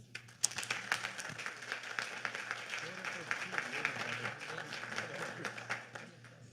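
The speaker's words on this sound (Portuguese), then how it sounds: "Vamos recebê-los, então, com muito carinho, um grande aplauso." Audience applause at an evening testimony event, greeting a married couple arriving on stage; steady clapping across the room with a low hum beneath and some voices mixed in.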